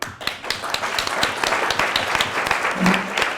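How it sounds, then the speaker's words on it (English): Applause from a dinner audience at a Lions Club charter dinner, a dense crowd of hands clapping steadily and fairly loudly throughout, with a brief murmur of voices underneath. "So I'd like to give a big round of applause to our Mayor, Josh Cohn,"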